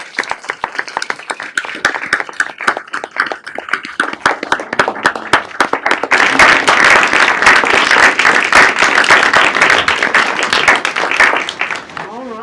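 City council meeting crowd claps, starting with sparse, distinct hand claps mixed with some talk, then swelling about halfway through into loud, dense applause that continues steadily to the end.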